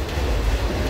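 A nearly empty passenger train rolls along from inside a coach, a steady low rumble with rattling undertones, close and continuous in a short stretch.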